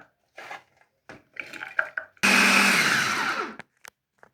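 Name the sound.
electric food chopper blending chopped garlic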